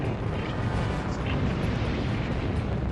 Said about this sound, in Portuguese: A explosão gigante de plasma carregado segue em direção ao nosso planeta